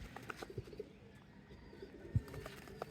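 Jalali and Giribaz pigeons coo softly in a loft, a few low, faint, throaty coos spaced irregularly over a quiet background.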